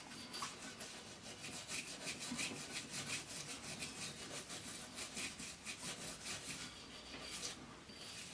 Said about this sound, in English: saturate your utility nylon brush and actually clean and get into the grooves and the slide